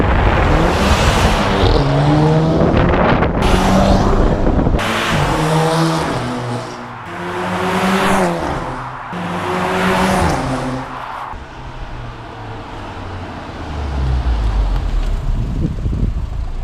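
A remapped mk5 Volkswagen Golf GTI accelerates hard through several gears, the exhaust note rising repeatedly with brief dips at each shift, loud and close with wind noise, then settling toward a lower drone.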